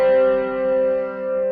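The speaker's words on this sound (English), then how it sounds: "The fourth sounds like this harmonically." Perfect fourth played harmonically, two notes sounding together as one sustained, steady interval with a slight swelling pulse, heard alone for under two seconds.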